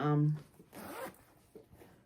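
Zipper on a handmade fabric project bag with chicken wire print lining, pulled in one quick loud zip at the start, followed by a person talking.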